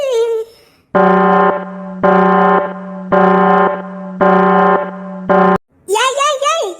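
A loud buzzing alarm sounds in five even bursts, each about a second long with short gaps, between excited cartoonish voices at the start and end.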